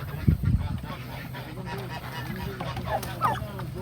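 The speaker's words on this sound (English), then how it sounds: "We'll chase the turkeys out." Farm turkeys call in a short burst of honking, gobble-like cries close by at the start, followed by a few fainter bird calls over a busy outdoor background.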